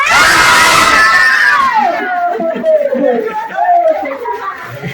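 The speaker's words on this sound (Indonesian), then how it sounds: "Jadi kalau mau coba berteriak boleh, silakan." A group of people shouts together inside a Japanese-era tunnel at Bukittinggi, a loud burst of mixed voices that falls away into scattered calls and chatter, with a slight reverberant tail.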